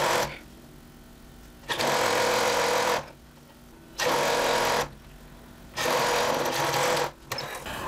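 A sewing machine stitches blouse cuffs in three steady runs of fast mechanical whirring, close by, with short quiet pauses between runs.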